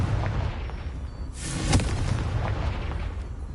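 A Confringo fire spell bursts in Hogwarts Legacy with a sharp whooshing crack and a deep boom, rising out of a low rumbling bed and fading into a lingering crackle.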